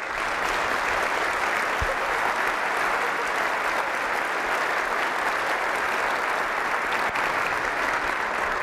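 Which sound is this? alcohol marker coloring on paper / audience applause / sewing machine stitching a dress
audience applause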